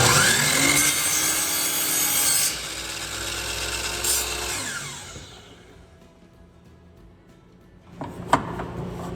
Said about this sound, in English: your chop saw so that it is at 45 degrees and lock it in place